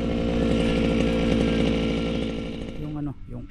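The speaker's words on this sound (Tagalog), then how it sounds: "Umpisa na tayo mag-grass cutter ulit." Grass cutter running loud and close with a raspy two-stroke whine for most of the clip, then cutting out near the end as a voice speaks.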